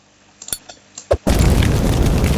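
A firework bomb goes off with a sudden loud blast that turns into a sustained roaring rumble, preceded by a few small pops and knocks.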